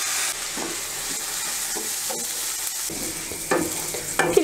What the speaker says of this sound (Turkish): Pirinçler diri diri olana kadar kavuruyorum